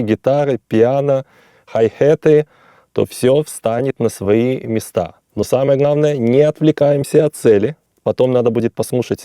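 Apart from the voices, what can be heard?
No distinct noise like a dog, phone or traffic.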